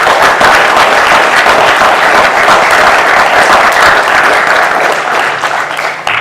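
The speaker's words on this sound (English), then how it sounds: "a round of applause for our candidates" Loud, sustained applause from the audience at a candidates' forum, dense clapping that holds steady and eases slightly at the end.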